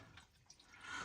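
A brief, faint watery gurgle and drip as air glugs through radiator heating pipes during a radiator swap in a house.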